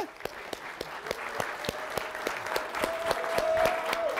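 A football team claps in unison, a steady, evenly spaced beat of sharp group claps building slightly in loudness, with a thin sustained tone in the background.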